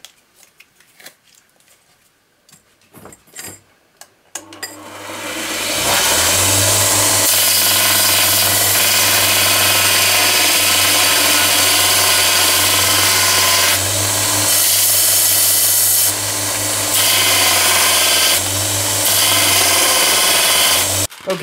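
A power tool grinds the end of a threaded bar for a DIY folding aluminum bucksaw: a few handling clicks, then a loud, close, continuous whine that keeps going for over fifteen seconds with slight load changes.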